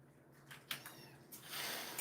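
Household cats in a home with many cats meow faintly at dinnertime: a few short, soft mews and light rustles come close by in a quiet room, with no speech.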